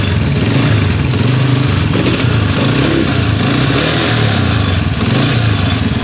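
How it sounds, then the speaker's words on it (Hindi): Honda CG125 motorcycle with a starting fault running after being kicked over, its single-cylinder engine chugging steadily and loud up close, with slight rises and dips in revs and some mechanical clatter. "मोटरसाइकिल को हम दोस्तों किक लगा के चेक करेंगे कि आया कि हमारी मोटर बाइक स्टार्ट होती है या नहीं"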